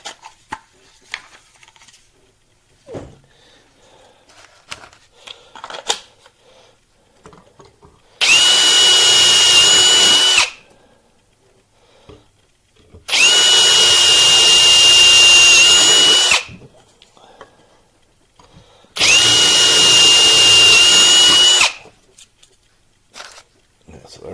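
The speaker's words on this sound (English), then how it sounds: "Holes drilled in that one." Cordless power drill boring holes, three loud sustained bursts of a few seconds each separated by quiet gaps with faint handling clicks.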